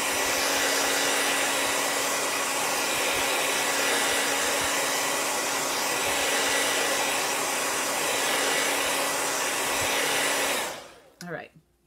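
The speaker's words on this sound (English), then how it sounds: "let me get my hair dryer real quick" A hair dryer blows with a loud, constant whooshing whir for about ten seconds, then cuts off, followed by a few brief handling noises.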